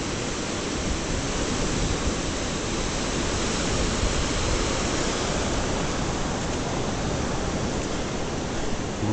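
Ocean surf rolls onto an Algarve beach near Albufeira in southern Portugal, a loud, steady, broadband wash of breaking waves filling the whole stretch without pause or voices.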